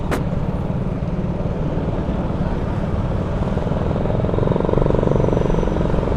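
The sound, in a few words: big bike motorcycle passing on the road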